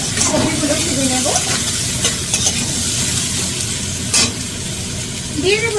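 Vegetables fry in oil over a high gas flame, making a loud, dense close sizzle with bursts of scraping and clattering from stirring.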